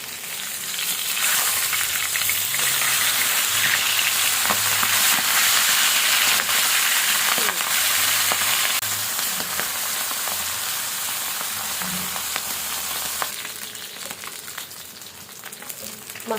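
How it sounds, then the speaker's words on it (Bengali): Pabda fish frying lightly in oil in a pan: a loud, dense, continuous sizzle with soft crackling and low utensil thumps, close up, easing slightly in the final seconds. "মাছটা আমি হালকা করে ভেজে নিব।"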